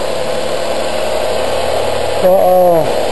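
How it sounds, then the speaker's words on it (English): A 1996 Geo Metro engine idles with a steady, close, even drone; near the end a voice speaks briefly over it. "we just fired up Jeff's 1996 Metro. Runs just beautiful."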